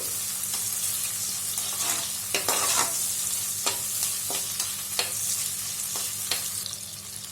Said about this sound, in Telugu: కొన్ని జీడిపప్పు పలుకులు వేసుకుందాము వేసుకొని ఒక నిమిషం పాటు వీటిని కూడా ఫ్రై చేసుకుందామండి